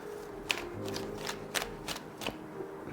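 Tarot cards are shuffled by hand in a few quick, close riffling bursts, with soft papery slaps between them in a quiet room.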